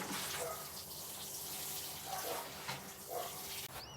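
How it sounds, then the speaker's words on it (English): Water poured at the base of plants on a UK allotment vegetable plot, a steady gushing splash running continuously at moderate level with faint background sounds. "water right base of your plants"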